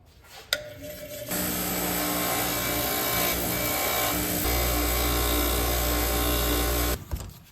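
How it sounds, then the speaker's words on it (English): Wire wheel on a power tool scrubbing surface rust from an axe head, a steady loud abrasive whir running for several seconds with a deeper drone entering partway through, then cutting off. "I'm going to start by just hitting this thing with the wire wheel"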